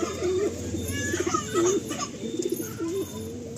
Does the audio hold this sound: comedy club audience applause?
no